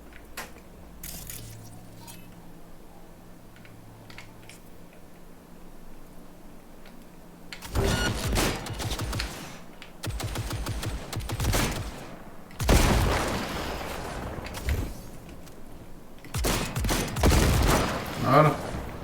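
Gunfire in Cyberpunk 2077 comes in several loud bursts of rapid shots separated by quieter gaps with faint game ambience and ticking, ending with a final volley.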